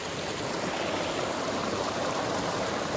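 A shallow creek runs steadily through a wild outdoor spot, giving a continuous broadband rush of flowing water that stays even and fairly close throughout, with no voices.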